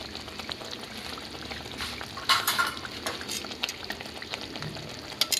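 Pangas fish curry with freshly added cumin powder simmers and sizzles in a pan in a Bengali kitchen, a continuous dense hiss with irregular spoon scrapes and clinks as it is gently stirred, near and moderately loud.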